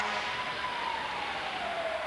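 A Waupaca Fire Department siren wails during a Fourth of July parade, a single long tone sliding slowly downward, moderately distant and steady under a broad wash of street noise.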